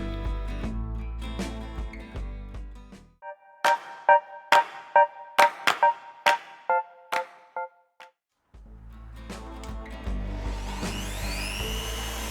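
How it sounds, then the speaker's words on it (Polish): A power drill with a 7 or 10 cm hole saw whines in bursts, with a series of short sharp revving pulses in the middle, then a longer steady grinding run cutting circles from wood. "Wykorzystujemy do tego celu wiertarkę i otwornicę o średnicy 7 i 10 cm."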